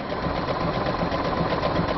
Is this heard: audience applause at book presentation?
no